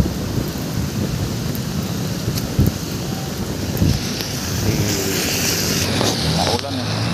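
Rain and gusting wind fill a city avenue on a wet Monday as someone walks outdoors, a continuous rough hiss with occasional bumps and faint voices mixed in.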